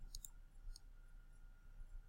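Calculator buttons are pressed in a quick series of faint, light plastic clicks, close up against a quiet background hum.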